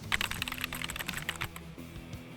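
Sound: mechanical keyboard typing

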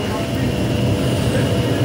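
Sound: metro train at Jesmond Metro station

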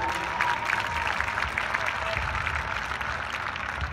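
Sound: applause for Scott Pickett

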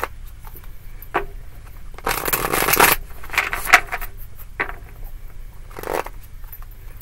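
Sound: shuffling tarot cards

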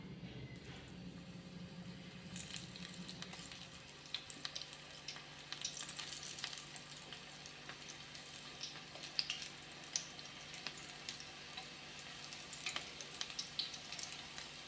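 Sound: shallot pakoda frying in hot oil in a pan

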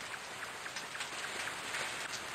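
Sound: rain effect in the video game Yume Nikki 3D

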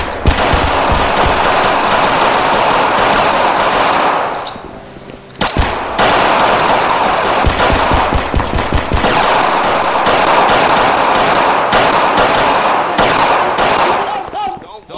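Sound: multiple gunshots fired

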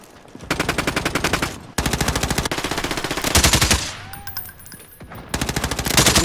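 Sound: gunfire from the video game Warzone

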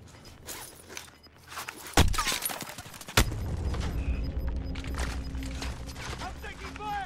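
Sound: gunfire from a video game

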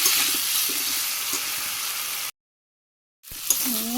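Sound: frying beetroot in a pan

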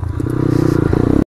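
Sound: motorcycle engine misfiring

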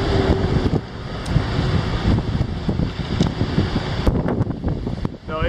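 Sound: strong wind in Valparaiso, Chile

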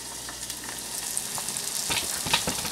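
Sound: egg frying in a pan over a camp stove

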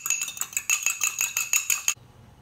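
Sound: beating an egg with a fork in a dish

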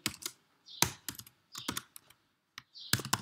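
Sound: typing code on a computer keyboard

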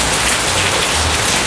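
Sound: rain falling

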